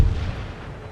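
A single heavy boom of mortar artillery fire on an Empire Total War battlefield, a deep thud at the start that quickly decays into a rumbling tail.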